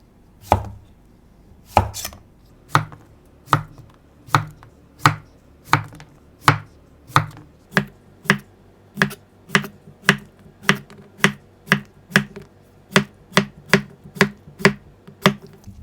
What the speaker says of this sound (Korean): 똑같이 오이 다 썰었습니다.